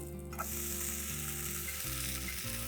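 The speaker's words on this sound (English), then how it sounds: "Let the uttappam cook on one side." A ragi uttapam topped with vegetables sizzling in oil on a pan, a steady close hiss with a low background hum underneath.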